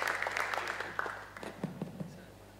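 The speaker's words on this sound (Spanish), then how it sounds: "Un nuevo aplauso" Brief applause from an audience at an architecture event, fading quickly into scattered claps and a few voices.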